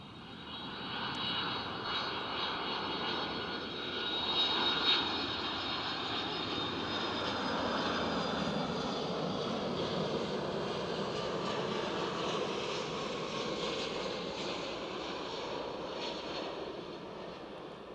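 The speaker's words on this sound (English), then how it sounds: "here's our first arrival, the early Delta Airlines from Boston." A Delta Airlines jet arrives from Boston at Edinburgh airport, its engines a loud, steady, close roar that swells slightly and holds throughout with no talk.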